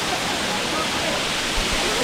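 Sirimane waterfall flows with a constant, dense roar that fills the whole moment, close and steady with no break.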